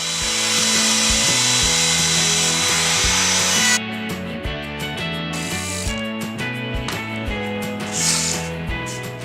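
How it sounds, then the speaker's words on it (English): A loud, whining router cuts steadily through wood, rounding over a desk corner, its pitch shifting as it bites, with brief pauses and rasping bursts. "use it as a template for the router to make the round over"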